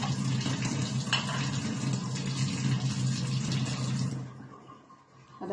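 A quarter cup of water is poured into a baking tray of potatoes in a home kitchen, a steady close splashing and hissing pour that cuts off near the end, leaving quiet.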